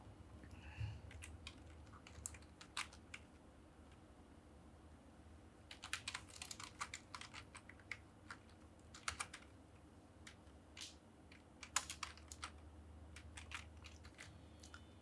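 Fingers type on a computer keyboard while entering text in Microsoft Word, quiet close key clicks coming in short irregular bursts with pauses between, over a faint steady room hum.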